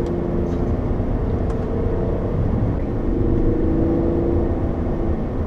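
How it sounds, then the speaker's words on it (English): A 2013 Chevrolet Impala 1LTZ engine hums steadily from inside the car under road rumble, a smooth continuous drone with a faint tonal rise partway through. "That engine does sound very good though."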